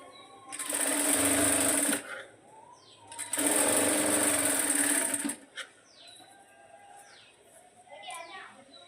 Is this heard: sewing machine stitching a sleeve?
yes